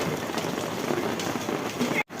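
Rain falls in a steady, close hiss over Leh main market, continuous until a sudden cut near the end.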